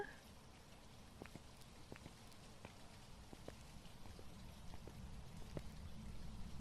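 Rain in the Phasmophobia video game, a steady soft patter with scattered sharper drips on surfaces, continuous and fairly quiet throughout.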